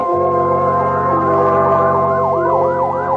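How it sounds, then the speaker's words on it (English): Fire engine siren wailing through the night in a radio drama, a loud, steady close-up wail rising and falling in repeated sweeps over a dense low rumble of the truck, with no voices. "A fire engine, suddenly screaming through the night, draws her swiftly from her bed to the open window."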